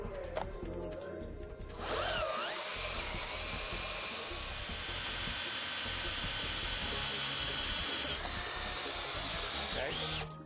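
A pressurized hot-tap drill with a boring bar cuts a hole into a pressurized pipe, spinning up after a brief startup and holding a steady, high, piercing whine close by for most of the stretch.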